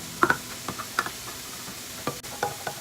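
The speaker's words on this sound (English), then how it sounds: "add onions. Stir really well." Onions being stirred in a pan for a vegan black bean and vegetable rice dish, scattered spoon scrapes and clinks over a faint sizzle, sparse and fairly quiet.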